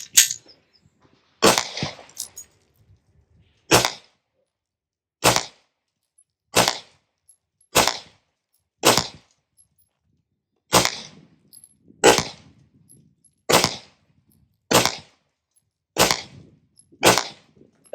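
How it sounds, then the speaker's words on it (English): Smith & Wesson M&P 2.0 Compact pistol firing 147 grain reloads, about thirteen loud, sharp shots at an uneven steady pace, each cracking then dying away quickly, outdoors with no talking. "we're going to fire a few rounds"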